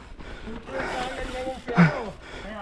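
Heavy, audible breathing and panting from a mountain biker resting after a downhill trail ride, close to the mic, with short gasps and breathy exhales mixed with a voice speaking between breaths.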